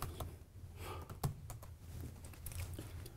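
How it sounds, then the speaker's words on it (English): Quiet typing on a computer keyboard while entering a hosts file in PowerShell, a sparse run of soft key clicks at an uneven pace with one sharper keystroke, heard alone and close. "If I type the host file"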